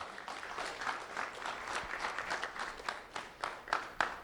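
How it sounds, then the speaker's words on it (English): An audience at an award ceremony claps for a student, a moderate, even patter of many hands that grows more uneven and thins into a few louder individual claps toward the end. "Round of applause for Jaden Alston."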